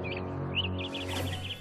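A cartoon bird chirps close by in a short run of quick, bright, repeated tweets over a steady low hum.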